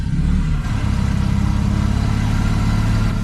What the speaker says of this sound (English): you can hear how the engine sounds from in here